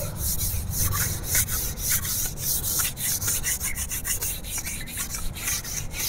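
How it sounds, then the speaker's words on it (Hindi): Floor tiles scrubbed with Pidilite Roff tile cleaner, steady rhythmic back-and-forth rubbing strokes, close and fairly loud, with no voices. "ऐसे आपको टाइल क्लीनर से साफ करना है टाइल्स।"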